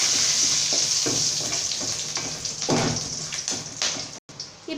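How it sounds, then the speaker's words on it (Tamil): Garlic, dried chilli and curry leaves sauté in hot oil for a thippili rasam, giving a steady close sizzle and crackle broken by a few louder bursts of stirring and spattering. "இப்போது இதெல்லாம் சேர்த்து நல்லா நம்ம வதக்கி விட்டுக்கலாம் ஆயிலில்."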